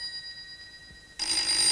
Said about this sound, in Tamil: Sir phone sir.